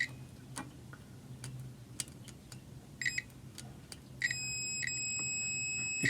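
A multimeter on a continuity test while repairing a Kenmore 400 Series gas dryer gives short beeps at first, then a sustained high tone. Faint ticking taps come from the probes touching.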